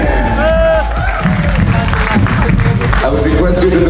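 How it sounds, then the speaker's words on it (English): A pageant audience bursts into loud applause and cheering for the outgoing Miss United Nations 2018, a dense roar of clapping and shouts that fills the hall throughout. "can we have a round of applause for Miss United Nations 2018"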